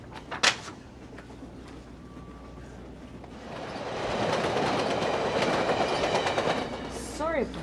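A passenger train runs on its rails with a steady rumble and rhythmic clickety-clack that builds louder midway, a sharp clunk near the start and a high squeal toward the end.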